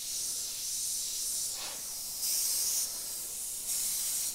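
An Iwata HP.TRN2 airbrush sprays paint in steady hissing bursts, some louder pulses starting and stopping, close and continuous.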